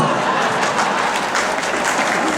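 An audience claps steadily at a Hindi poetry recital, a dense, even wash of applause that stays loud throughout with no break.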